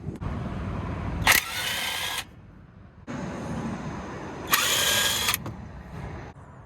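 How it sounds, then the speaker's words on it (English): Two separate bursts of an impact or power wrench backing out brake caliper bolts during a brake pad and rotor replacement, each loud, rattling whir lasting about a second, close by with quiet shop noise in between. "There are 2 bolts back here that we can take off."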